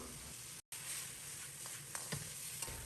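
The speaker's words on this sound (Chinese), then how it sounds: "开大火在锅中翻炒，把洋葱和尖椒炒至断生" Onion and chili pepper sizzle in a wok over high heat, a faint steady frying hiss with a few soft stirring taps.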